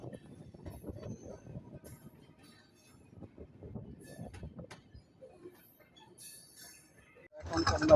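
An intercity train from Khulna to Dhaka slows to a stop at Kamalapur station, heard from inside as a low rumbling clatter that thins out, with faint metallic squeals and a louder noise at the very end.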